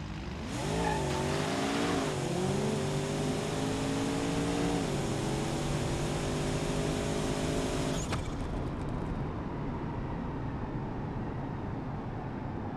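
Drag race car in BeamNG.drive launching and accelerating hard, engine tone climbing through several gear shifts with a brief tire squeal, loud and steady for about eight seconds before cutting to a flat rumble.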